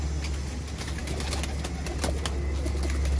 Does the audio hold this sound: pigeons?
yes